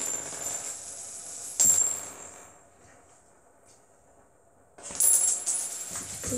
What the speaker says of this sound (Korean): 동전팽이 돌리기